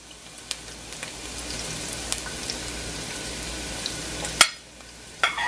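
Onion sizzles in a hot pan with a steady frying crackle, while a few sharp clinks and scrapes of stirring cut through, the loudest one near the end.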